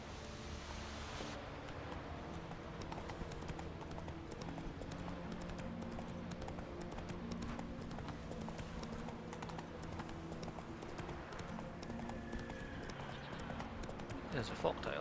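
Hooves clip-clop steadily as Geralt's horse trots across Skellige in The Witcher 3, a continuous game rhythm layered under music and ambient sound, with a person talking over it.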